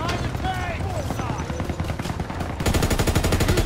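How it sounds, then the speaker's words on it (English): MG42 machine guns fire in a Call of Duty WW2 battle, long rapid bursts ending in a dense, loud, continuous rattle, while voices call out over the gunfire. "MG42s."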